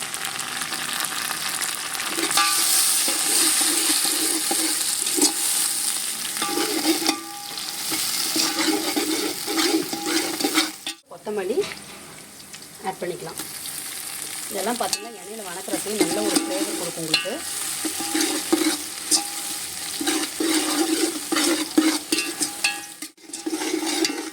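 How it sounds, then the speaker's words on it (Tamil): Biryani masala with green chilies and mint frying in a pot for chicken dum biryani, a loud continuous sizzle with repeated scraping stirs and brief pauses, close throughout. "பொறுமையாக நல்லா செவக்க வறுக்கணுங்க அப்போ தான் வந்து ஃப்ளேவரும் நல்லாயிருக்கும்"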